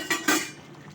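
Metal lid lifted off a cooking pot of fish and taro curry, two quick close clinks followed by a faint fading rattle, with no talking.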